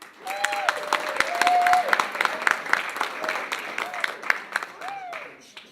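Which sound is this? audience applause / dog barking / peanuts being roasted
audience applause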